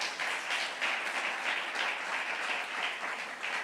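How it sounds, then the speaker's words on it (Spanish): A church congregation applauds in a steady, dense wash of clapping that lasts throughout, moderately loud, with no speech over it. "Dale un aplauso al Señor por esos."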